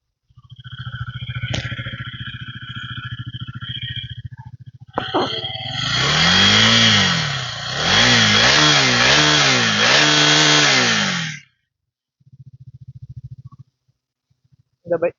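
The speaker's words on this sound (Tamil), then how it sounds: "நம்ம கொஞ்சமாக ரைஸ் பண்ணி பார்க்கலாம் எந்த அளவுக்கு சவுண்ட் இருக்குது அப்படின்னு" A KTM Duke 250 motorcycle engine idles, then is revved hard twice, rising and falling in loud roaring sweeps before dropping back to idle and cutting off.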